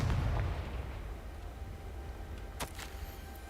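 A Confringo fire spell explodes in Hogwarts Legacy with a low booming burst at the start, followed by a fading rumble and a sharp crackle near the end.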